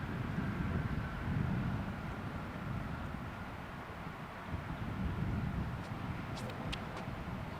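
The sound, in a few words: wind blowing on a disc golf course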